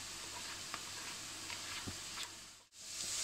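Carrots fry in vegetable oil in a pan, a steady, quiet, close sizzle with faint stirring scrapes and a brief dip near the end.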